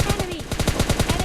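Rapid repeated shotgun blasts from PUBG Lite, a steady rhythmic burst of loud shots roughly every tenth of a second, close and dominant with no talk over them.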